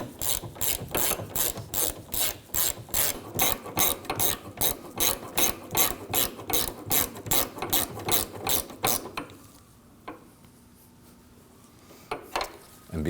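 A ratchet wrench tightens 10mm bolts on the liftgate strut of a 2013-2015 Subaru XV Crosstrek, giving a long run of quick, even, close clicks that stops into near silence, with a couple of faint knocks at the end.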